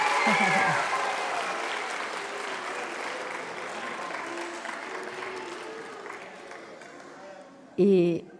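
Audience applause welcoming visiting school students at an event, loud sustained clapping from a crowd that fades gradually, with a voice speaking briefly near the end.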